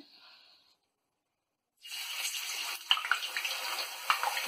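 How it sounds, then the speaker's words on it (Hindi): Potato chips fry in very hot oil, a bright hiss of bubbling that starts suddenly after near-silence and continues loudly with a few sharper pops. "देखिए आप देख सकते हैं कि तलना शुरू हो गया है"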